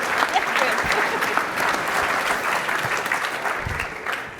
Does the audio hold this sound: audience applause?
yes